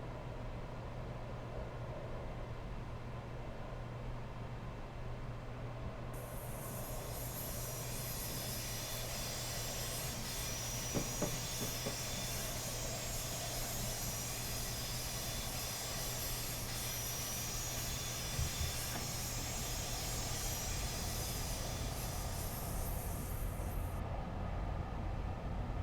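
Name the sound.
train accelerating in video game Train Simulator 2019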